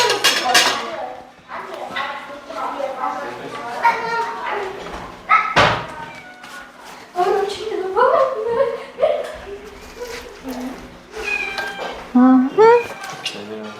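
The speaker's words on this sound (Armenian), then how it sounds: "Կատուները հոտը առան" Several cats meow repeatedly amid people talking, with dishes clinking and a door banging shut partway through.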